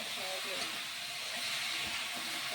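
Water poured onto fried spices in a pan, cooking kachur loti with dried fish, sets off a steady, close hissing sizzle that runs unbroken for the whole moment.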